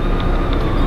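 A train in the video game Garry's Mod rumbles steadily along, a continuous loud low-frequency rolling drone with faint higher clanks, no talking over it.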